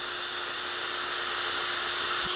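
A small drill grinds on a part of a 1982 Honda CB 900F motorcycle under restoration, a steady, continuous high whine with a constant tone, close and loud throughout.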